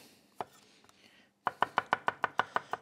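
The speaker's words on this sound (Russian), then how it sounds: "Как будто я ничего не режу, просто стучу по доске." A knife slices pickled cucumbers on a cutting board: a few scattered cuts followed by a quick run of about nine evenly spaced, crisp knocks, close and alone.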